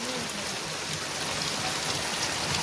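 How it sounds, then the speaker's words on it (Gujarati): Heavy rain pours down steadily as a continuous, even hiss of falling water across a rural area, with no breaks or voices throughout. "જુઓ તમે કેટલો વરસાદ પડે"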